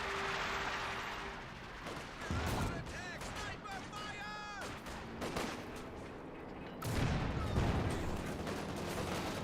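Battle sounds in Company of Heroes 2, with bursts of small-arms fire and booming shell impacts, including a tank gun striking infantry, mixed with whistling projectiles and explosions while a commentator talks over it.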